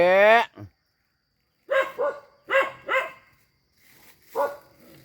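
A dog barks in a handful of sharp, close bursts spaced across a few seconds with quiet gaps, following a brief high whine at the start.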